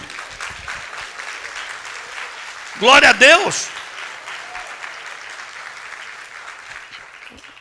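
Church congregation applauding steadily throughout a Christmas sermon, with a short burst of shouts and the preacher speaking Portuguese over the clapping.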